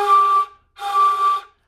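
A person whistling with lips pushed forward, producing two clear sustained tones separated by a short pause, close and fairly loud.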